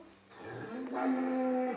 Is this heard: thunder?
no